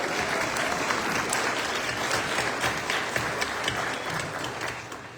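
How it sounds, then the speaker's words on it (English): Sustained applause from a crowd at an outdoor immigration action rally in Oakland, dense steady clapping filling the whole stretch with no voices standing out. "Let's give ourselves a round of applause for being here."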